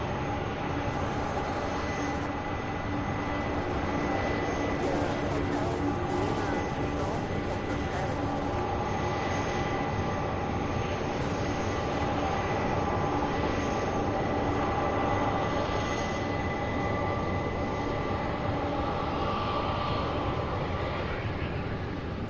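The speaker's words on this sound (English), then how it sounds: "So our third MD-11 now on short final coming in from Miami, Florida, UPS flight 2331, a 22-year-old MD-11." UPS MD-11 cargo jet, 22 years old, on short final into Louisville's SDF airport, a steady broad jet roar held loud and close throughout, with engine hum and faint voices in the background.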